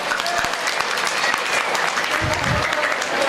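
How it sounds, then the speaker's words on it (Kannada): An audience at a public gathering addressed by a chief guest claps loudly and continuously, a dense, even wash of applause from many hands lasting the whole stretch. "ಜೋರಾಗಿ ಚಪ್ಪಾಳೆ ಬರಲಿ ನಮ್ಮ ತಾಯಿಯವ್ರಿಗೆ"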